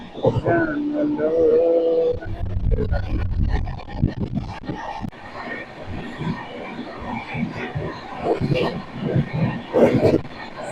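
Shramjeevi Express, the Rajgir to New Delhi train, rushing past a moving passenger train at a crossing, a roaring rumble with rattling bursts while people talk nearby.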